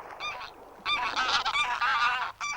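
Birds calling on a tidal mudflat shore as the rising tide pushes them off, a flock of honking, goose-like calls in overlapping bursts, fairly close and moderately loud with brief pauses between groups.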